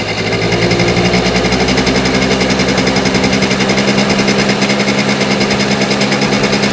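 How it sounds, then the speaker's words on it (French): A small engine runs fast and loud with a rapid, buzzing rattle, holding a steady high idle during carburetor mixture adjustment, running lean with too much air. "jusqu'à ce que le moteur broute, qu'il ait trop d'air"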